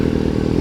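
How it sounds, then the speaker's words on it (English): A motorcycle engine idles and pulls at low speed during slow-speed riding practice, a steady, throaty rumble with a fine rapid pulse held close and even throughout. "Listen to that engine."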